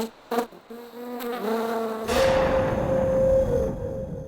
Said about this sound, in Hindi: मच्छर हो गए क्या हो?